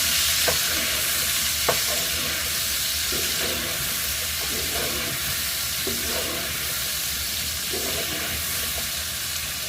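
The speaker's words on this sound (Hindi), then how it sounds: "तो फिलहाल जब हम सब्जियां डाल दी अभी इसको अच्छे से भून लेते हैं" Mixed vegetables sautéing in a hot pan give a constant loud sizzle and hiss, with occasional soft scrapes from the stirring spoon, close up and free of any voices.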